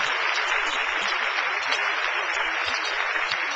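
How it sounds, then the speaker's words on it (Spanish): An audience at a talk on emotions and creativity breaks into applause, a dense, steady wash of clapping at moderate loudness from start to finish. "Yo quiero, por favor, que le demos un gran aplauso a Fernando Vigorena"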